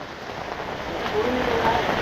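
Heavy monsoon rain pours down during a flood in Ratnagiri, a steady hissing downpour that swells slightly louder toward the end, with faint background noise and no clear speech.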